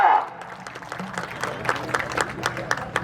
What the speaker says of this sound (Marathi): एकदा बाळासाहेबांसाठी जोरदार टाळ्या होत्या मोकळ्या मनाना